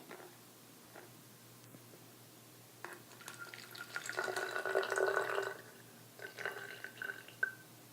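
About 50 milliliters of water is poured into a container in two short, faint bursts of trickling liquid, the first longer than the second, in an otherwise quiet room.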